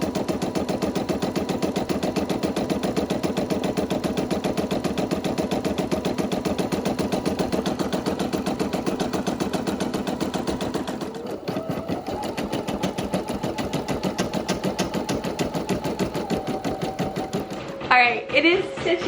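Brother PE900 embroidery machine stitching, a fast, even mechanical chatter of needle strokes heard close, shifting to a different rhythm partway through and ending with a few clicks and clatters.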